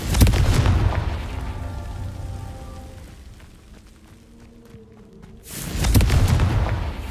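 A Confringo fire spell blasts with booming explosions in Hogwarts Legacy, a loud burst at the start, a rumbling decay with crackling debris, then a second heavy blast near the end.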